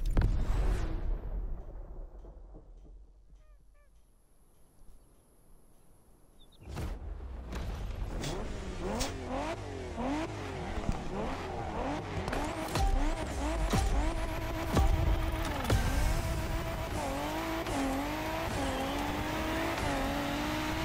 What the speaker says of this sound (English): Why does this truck sound like this?